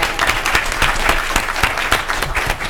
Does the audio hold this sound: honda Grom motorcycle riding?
no